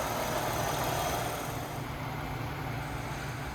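A 2009 Toyota Sienna XLE family minivan engine idles steadily, a smooth, even low rumble with no knocks or irregular noises, close and continuous throughout.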